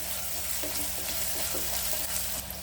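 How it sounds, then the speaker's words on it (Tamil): Onions sautéing in a pan for rice and dal, a continuous moderate sizzle with light stirring ticks over a low steady hum. "வெங்காயம் நல்லா வதங்கிட்டு"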